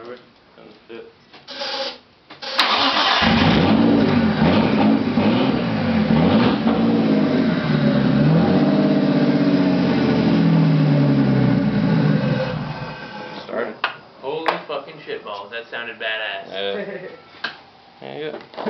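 A car engine with an open downpipe and no exhaust fires up and revs hard, a loud raw roar lasting about ten seconds before dropping off, with people talking before and after.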